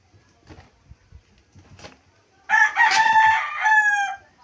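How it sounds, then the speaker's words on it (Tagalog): A few soft clucks and low rustling, then a loud rooster crow close by, long and drawn out. "marami talagang manok dito guys"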